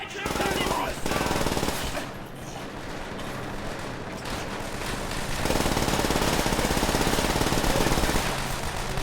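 Sustained automatic machine-gun fire in Call of Duty: World at War on the Eastern Front, dense rapid bursts with loud booming explosions and battle noise, continuous and close throughout.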